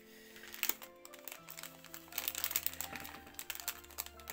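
A padded mailing envelope from an unboxing being carefully opened, giving quiet, close, intermittent crinkles and rustles in short bursts.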